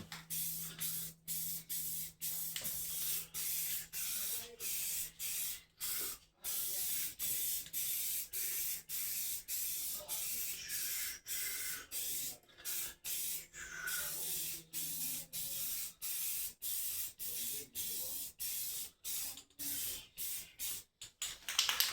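Spray paint hisses onto restored rusty dumbbells in many short, repeated bursts with brief pauses between them, up close and fairly quiet.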